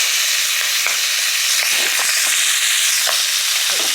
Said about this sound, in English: So they've fairly cooked, and put the butter in.